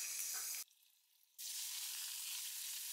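Tomato fish curry sizzles in a pan with a hiss of frying, broken by a brief quieter gap before the loud sizzle resumes.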